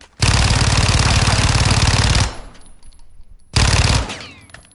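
Rapid automatic gunfire from the Fennec in Modern Warfare 2 multiplayer, one loud sustained burst of about two seconds, a short pause, then a second shorter burst, with no talking.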